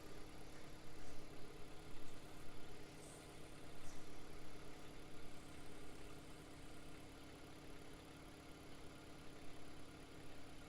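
A car engine idles steadily while air is bled from its cooling system, a faint, even, continuous hum with slight pulsing and no voices.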